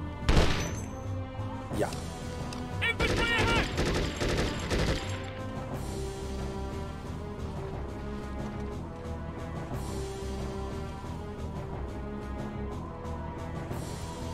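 Gunfire and explosive impacts in the military shooter game Conflict: Desert Storm: a few sharp bursts of shots and crashes early on, then a busy, steady mix of game sound. A brief spoken word is heard.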